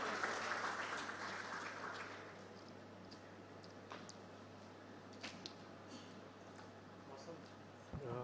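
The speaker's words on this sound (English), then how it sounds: "Please join me in giving him a warm round of applause." An audience applauds at the Unfold 2022 Web3 event in India, a short burst of clapping that quickly fades to a quiet room.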